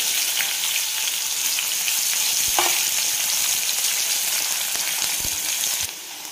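Onion frying in a pan with crushed garlic for a chickpea-flour pithla, a loud steady sizzle with a few stirring knocks, dropping slightly at the end, no voices.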